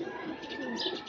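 A male pigeon of a Pakistani breed gives a soft, low murmuring coo, brief and close.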